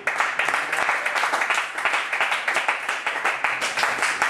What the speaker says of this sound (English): Clap it up for 420,